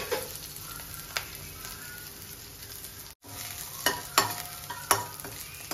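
Garlic and green chilies stir-fried in a pan, steady close sizzling under scraping stirs and sharp utensil clinks, with a brief cut midway.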